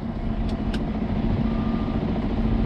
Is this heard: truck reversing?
yes